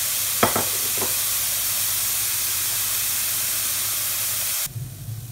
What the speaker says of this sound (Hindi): प्याज हमारा भुन गया है, लगभग मैंने 2-3 मिनट तक इसको भुना है